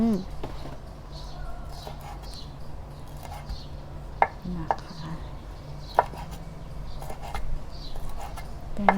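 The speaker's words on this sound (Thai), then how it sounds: "ขั้นตอนแรกนะคะ ก็คือหั่นกุ้งนะคะ" Sparse, sharp knife chops cutting shrimp land on a cutting board, a handful of crisp close taps at irregular intervals over a low steady hum.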